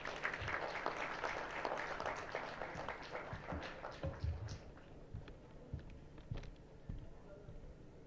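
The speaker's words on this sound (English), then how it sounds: "Can we please give him a huge round of applause" An audience at a political speaking event gives a round of applause for a speaker, loud and dense at first, then thinning into scattered individual claps that fade out.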